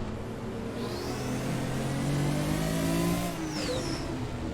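Race car engine in Assetto Corsa downshifting into second gear on the Nürburgring, a loud steady mid-pitched engine drone that rises and blips with revving, alone without talk.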